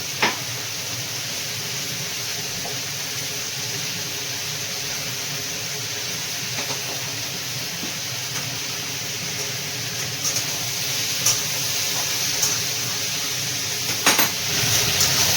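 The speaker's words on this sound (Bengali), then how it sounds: "এই যে ভালো করে এখন মিশিয়ে দিয়েছি লবণ হলুদ সব কিছু" Bhetki fish frying in a pan after being mixed with salt and turmeric, a steady close sizzle with occasional clinks and stirring noises that grow slightly busier toward the end.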